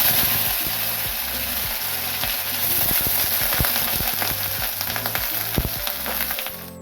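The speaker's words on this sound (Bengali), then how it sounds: "একটু হলুদ দিয়ে আলুটা ভেজে নেবো" Potatoes fry in hot oil with mustard seeds and two dried red chilies, a steady loud sizzle with crackling pops running throughout, no voices.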